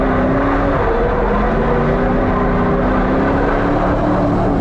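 A Ford Mustang drift car, the DriftStang, roars on a racetrack in second gear, its engine loud and close with a steady sustained drone and slight pitch shifts as it slides through a turn.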